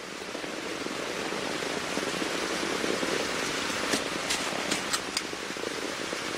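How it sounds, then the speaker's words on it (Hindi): Steady, even rain falls in a Hindi-dubbed cartoon about bike racing, a dense continuous hiss with a few sharper drip ticks toward the end and no voices over it. "बारिश होने लगी।"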